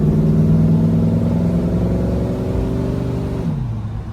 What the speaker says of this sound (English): For a 454 manifold, it sure as hell got a good sound to it.